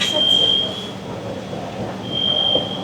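A fire alarm sounds during an evacuation in New York, with a piercing steady tone at the start, then a gap, then the tone again, over a busy background hum with some voices.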